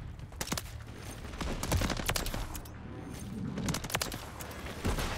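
BP50 rifle fire in the video game Modern Warfare: rapid, dense bursts of sharp gunshots crackling almost continuously across the clip, loud and close, with a brief lull in the middle before the firing resumes.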